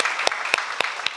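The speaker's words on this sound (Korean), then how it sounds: "주님께 감사와 영광의 박수 올립니다" Congregation clapping during a Korean church service on Mother's Day, a few loud, evenly spaced claps about a quarter second apart, close and crisp, with no talking.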